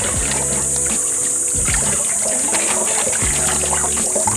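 Thin stream of water trickles and splashes into a basin during laundry washing, with light knocks and sloshes of handled items breaking in intermittently.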